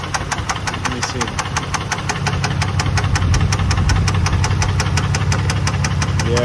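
Nissan G35 V35 Skyline engine with a dying motor, a loud rapid metallic knocking ticking at an even pace over a rough idle, close up and growing slightly louder.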